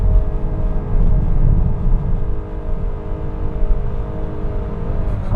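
A 2022 Honda Accord Hybrid with a CVT holding its engine at high revs, a steady, loud droning hum with a constant pitch and no voices over it.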